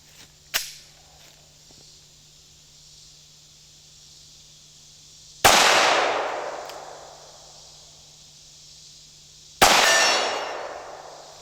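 Bullets from a Glock 17 Gen 5 striking a steel target at 50 yards: three separate impacts, a faint early tick then two loud ringing clangs that each decay slowly, with quiet stretches between.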